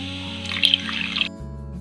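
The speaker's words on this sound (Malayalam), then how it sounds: "ഈ പാല് മാത്രം പോരാതെ വേവാനായിട്ട് അപ്പൊ നമുക്ക് ഒരു അല്പം വെള്ളം കൂടെ ഒഴിച്ചു കൊടുക്കാം" Water is poured into a pot holding coconut milk and pumpkin for a Kerala olan, giving a brief splashing trickle of about a second that stops abruptly over a low background hum.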